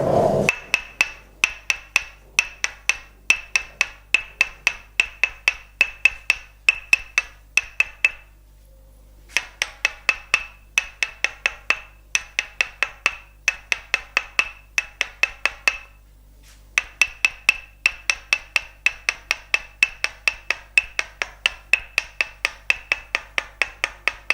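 Rapid rhythmic wooden tapping in quick bursts from a wooden massage mallet pounding leg muscles, with two short pauses, sharp, close knocks repeating steadily.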